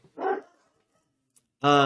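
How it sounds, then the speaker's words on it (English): Dogs bark twice with a gap of near silence between them: first a rough, noisy bark, then a loud, tonal, ringing bark at the end, both close and clear with no talking over them. "Dogs are just barking at nothing."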